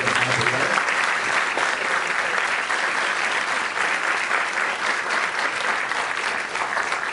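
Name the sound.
audience applause for organizations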